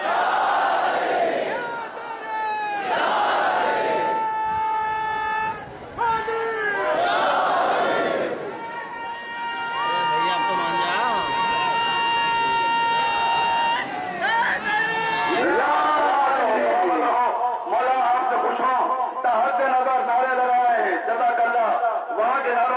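Young men chant slogans in unison at a religious procession, loud rhythmic shouted phrases from a large crowd with overlapping voices and cheering throughout.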